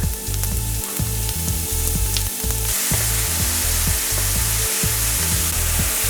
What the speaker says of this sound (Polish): Po zeszkleniu naszej cebuli dodajemy połowę naszych pieczarek.